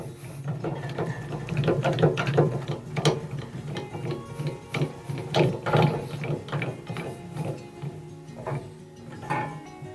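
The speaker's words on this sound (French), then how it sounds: "on va descendre la protection de lame à son maximum" The blade guard on a Leman SRU470 band saw is lowered, giving a run of close ratcheting clicks and mechanical rattles for several seconds, with no talking.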